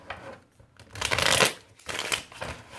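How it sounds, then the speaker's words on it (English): A tarot deck with re-backed, covered cards being shuffled up close, several quick riffling bursts of card flutter separated by short pauses. "you can shuffle this all day."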